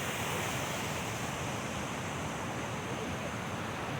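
A stream rushes and flows into a river, a steady, even broadband roar of moving water with no pauses and no voices.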